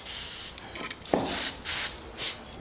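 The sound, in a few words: spraying Freeze-All penetrating oil from a can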